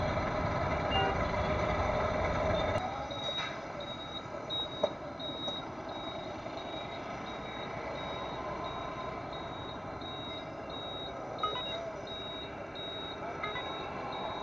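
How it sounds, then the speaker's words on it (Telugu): Busy Hyderabad city road traffic with trucks and cars rumbling steadily, while a vehicle's reversing alarm beeps in a regular repeating pattern throughout; a heavier rush of engine noise fills the opening seconds before settling. "ట్రాఫిక్లో ఉన్నాము"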